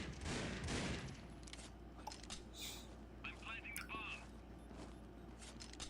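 Pistol gunfire in the mobile shooter Critical Ops during a first round of a tournament match, with sharp shots and clattering bursts under continuous excited commentary.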